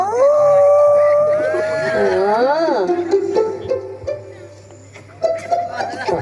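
A voice imitates a dog's howl in front of a live audience, a long rising and wavering vocal wail held for several seconds and then sliding down, followed by a short barking sound.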